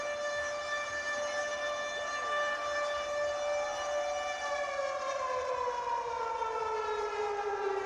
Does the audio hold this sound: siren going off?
yes